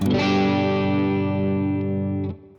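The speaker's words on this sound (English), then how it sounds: "now you've got both sides of the humbucker wired in parallel going to the output together" A single chord on a Stratocaster with humbucker coils wired in parallel rings out full and slightly beefy, sustaining steadily before being cut off abruptly near the end.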